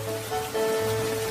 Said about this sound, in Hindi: तीसरा दिन, फिर से बारिश शुरू हो गई है।